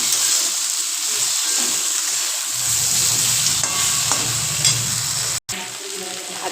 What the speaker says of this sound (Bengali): লবণ দিয়ে হলুদ দিয়ে একটু ভাজতে হবে